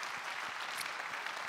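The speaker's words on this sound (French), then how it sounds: "On peut applaudir Annick Castiot" Audience applause at an evening business event in Wallonia for a university rector, a brief stretch of steady, fairly faint clapping from a crowd with no talk over it.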